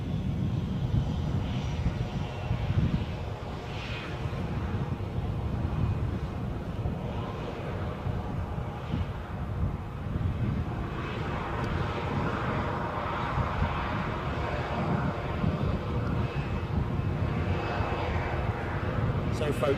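A KLM airliner taxiing at Edinburgh airport, heard close up as a steady, loud jet engine roar and whine that holds throughout with little change, with people talking faintly underneath.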